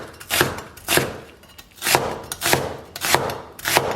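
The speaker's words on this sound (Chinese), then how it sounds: "然后把洋葱给它切成小细丝儿" A knife chops onion into thin strips on a board in quick, uneven bursts, each chop crisp and close, with short pauses between the runs.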